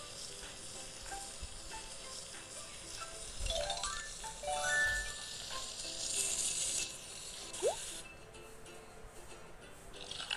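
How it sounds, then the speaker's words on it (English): Chocolate melting on a gas stove in a cooking video game, a soft, steady sizzle with faint bubbling and a few small tonal game effects, fairly quiet and with no voices. "let's melt chocolate."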